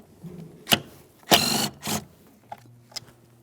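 A 10 mm headed bolt is worked loose inside a 2003-2007 Honda Accord, heard as a few short, sharp mechanical bursts and clicks from a hand tool, close and fairly quiet, with small taps between them.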